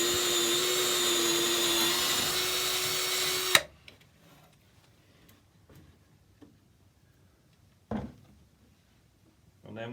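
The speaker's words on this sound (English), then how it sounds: "we use a 10mm drill bit and just protect the floor to collect some of the dust. And then drilling through" A drill bores through a wooden post with a 10mm bit, a loud steady whine for several seconds that cuts off abruptly, followed by near-silence with occasional soft knocks and handling noises.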